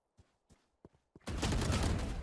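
Gunfire from the Valorant video game erupts after a few quiet clicks, becoming a loud, sustained burst of rapid shots that fills the rest of the moment.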